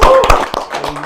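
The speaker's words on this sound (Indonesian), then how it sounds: "Tepuk tangan dong guys." A small studio audience claps hands for a guest on a Batak talk show, a short burst of a few sharp, close claps with a voice briefly heard underneath.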